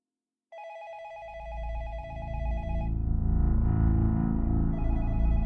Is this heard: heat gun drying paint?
no